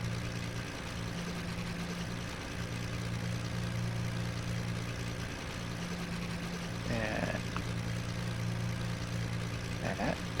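A propeller aircraft engine idles in Flight Simulator X with the fuel mixture leaned. A steady, droning rumble runs unbroken throughout, with faint brief clicks near the end.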